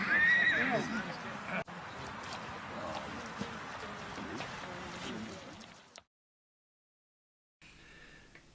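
A horse whinnies near the start over outdoor background noise and distant voices in Mongolia's Altai Mountains, then the sound cuts briefly to silence before faint ambience returns.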